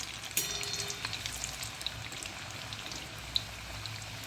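Shankarpali made from maida, first batch dropped into moderately hot oil: a soft, steady frying hiss with small pops and bubbling, fairly quiet and close, no talking.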